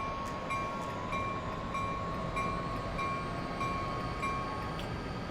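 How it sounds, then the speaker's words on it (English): An Acela Express train on the New York–New Haven line in Train Simulator rolls past with a steady, fairly loud rumble and hiss that stays even throughout, with no voices. "Did you see that train?"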